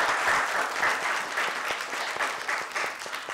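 An audience applauds at a televised women's empowerment programme, with steady, fairly close clapping from many hands lasting the whole stretch, pulsing slightly in intensity with no voices over it.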